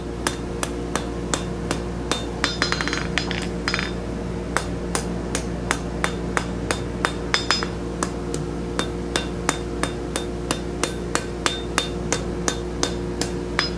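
A steel tenon hammered round on an anvil by hand for a gothic door knocker, with sharp ringing blows landing in a fast, steady rhythm over a constant workshop hum, close and loud.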